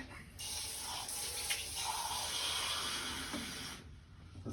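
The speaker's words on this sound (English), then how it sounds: "I gotta put water in it." Water runs in a quiet, continuous stream as a new coffee machine's reservoir is filled, stopping briefly near the end.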